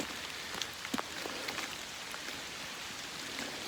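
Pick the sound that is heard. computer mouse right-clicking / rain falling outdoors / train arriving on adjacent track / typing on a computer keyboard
rain falling outdoors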